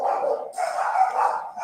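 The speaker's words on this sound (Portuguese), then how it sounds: "Os cachorros aqui estão latindo demais" Dogs barking nearby in a continuous run of overlapping barks and yips, fairly loud, with no talk over them.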